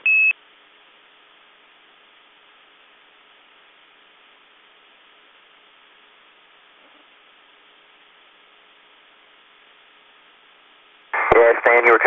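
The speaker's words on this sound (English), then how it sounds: "Yeah, Stan, you were kind of cut out by a cryo alarm there" A cryo alarm beeps in a short tone at the start, then returns after a long hiss as a loud repeated beeping that cuts across a radio voice near the end.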